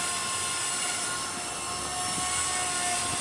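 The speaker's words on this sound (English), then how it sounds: "This is pretty much the smallest helicopter you can get and fly it outside." A small radio-controlled helicopter flies outdoors in the wind, its motor and rotor producing a continuous high-pitched whine and buzz that holds steady throughout, fairly close by.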